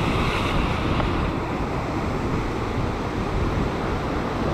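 Ocean waves and surf roar continuously and loudly, a dense wash of water noise mixed with wind buffeting the microphone, with no voices.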